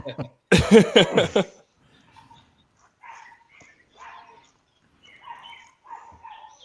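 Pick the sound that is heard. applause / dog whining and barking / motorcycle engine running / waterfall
dog whining and barking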